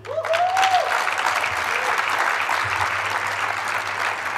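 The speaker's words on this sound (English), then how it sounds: "Are you ready to give a round of applause?" An audience at a hackathon awards ceremony breaks into loud, sustained applause as a runner-up team is announced, with a brief whistle near the start and the clapping tapering slightly toward the end.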